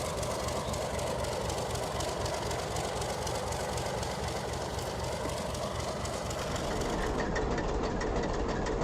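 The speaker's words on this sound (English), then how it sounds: "C&TS hopper number 160 is spotted to aggregate unloading" C&TS hopper car number 160 rolls into position for aggregate unloading, a continuous loud rumble of wheels and rail noise that trails off near the end.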